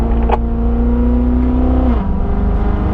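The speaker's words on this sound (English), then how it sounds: "now squeeze the throttle down, Carlos." A race car accelerating on track up to fifth gear, toward a top end near 119 mph: a loud, steady engine drone that drops in pitch at a gear change about two-thirds through.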